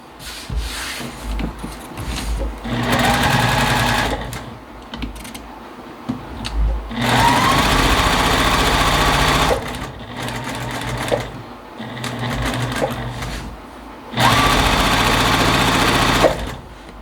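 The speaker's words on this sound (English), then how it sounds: "now we will sew this third row on using a 1/4 inch seam" A sewing machine stitches a quilt row with a 1/4 inch seam, running in several bursts of steady whirring separated by short pauses, close and clear.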